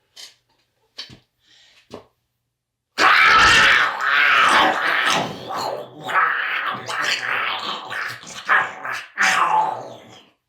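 A few faint clicks, then a voice imitating a dog, close and loud, snarling, growling and snapping in rough bursts.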